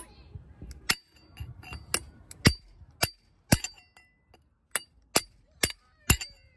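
A chisel or solid screwdriver is hammered against a stuck pump to knock it free, giving a string of about a dozen sharp, ringing metallic strikes at an uneven pace, close and loud with brief gaps between blows.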